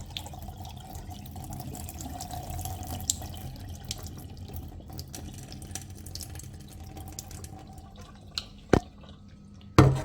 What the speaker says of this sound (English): I'm going to strain the water off the ackee.